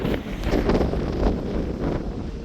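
Strong wind on a hilltop close to wind turbines buffets the microphone in loud, uneven gusts, a rough continuous roar with no voices.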